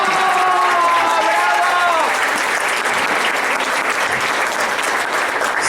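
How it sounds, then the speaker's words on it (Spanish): A dense wave of audience applause at a micropigmentation symposium in Mexico, steady clapping from a large crowd that rises as a voice fades out and then carries on alone. "Que se repita el aplauso."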